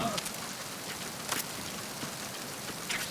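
Steady rain from the Metal Gear Solid 2 tanker level, a continuous hiss with faint scattered pattering throughout.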